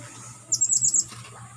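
A caged songbird before release beside a river in the Philippines, giving a quick series of bright, high chirps about half a second long, close and clear over a low background hum.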